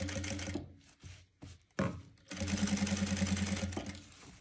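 A sewing machine runs in short bursts, then settles into a steady rapid stitching rhythm as it sews a seam on a velvet blouse, close and clear with a few pauses between runs.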